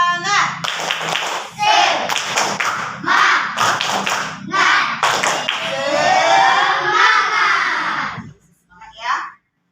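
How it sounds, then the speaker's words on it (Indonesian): Fifth-grade schoolchildren in a classroom perform a rhythmic spirit clap, bursts of patterned hand claps alternating with group chanting voices, loud and close, ending in a short pause and a final shout. "Coba dulu tepuk semangat ya."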